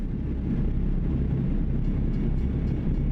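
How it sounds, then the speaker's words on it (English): A train rolls past in American Truck Simulator, a steady low rumble lasting the whole stretch, heard from a heavily loaded logging truck running at light throttle. "Oh, there's a train back there somewhere."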